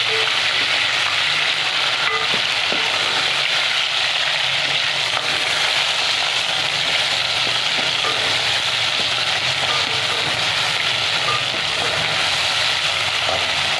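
A tomato with green chillies fries with browned onion in a pan, giving a steady, loud, close sizzle that runs unbroken without talk.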